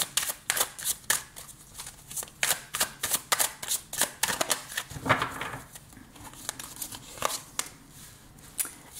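Tarot cards are shuffled by hand in a rapid run of crisp riffles and slaps, close and clear, with a brief pause midway before the shuffling resumes.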